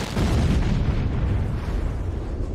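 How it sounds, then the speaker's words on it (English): Ignition of an isobutane vapor cloud at the ExxonMobil refinery's FCC unit in Torrance in 2015, a deep sustained rumbling boom that hits suddenly and rolls on heavily without fading. "The vapor cloud likely found an energized welding machine roughly 70 feet away from the initial release and ignited."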